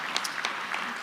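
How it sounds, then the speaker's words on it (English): A conference audience at an opening session claps in a brief round of applause for research award recipients, a short burst of scattered hand claps. "join us in a brief round of applause for all of our 2024 Research Award recipients"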